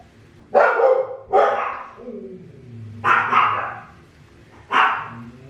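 A dog barks four times nearby, loud sharp barks in two pairs separated by pauses, with faint whimpering in between.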